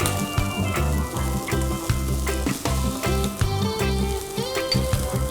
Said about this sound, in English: So while that is sauteing, I'm just going to again season it with some salt.